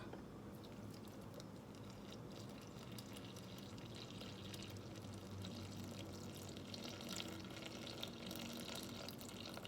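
Water pours steadily into a Thermomix bowl, 350 grams measured for focaccia dough, a soft continuous trickling wash that runs about ten seconds at low level with no talk over it.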